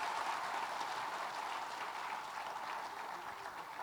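Audience applause at an education awards ceremony, a steady wash of clapping from a crowd, fairly faint and distant, continuing without a break.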